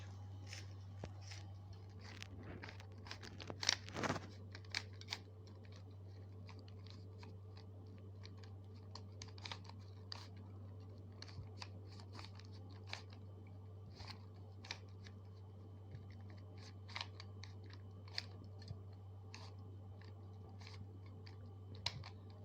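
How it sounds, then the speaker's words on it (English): Quick plastic clicks and clacks of a Rubik's cube being twisted, scattered irregularly over a low steady hum, quiet and close. "And now this Rubik cube is shuffled and now I am solving it."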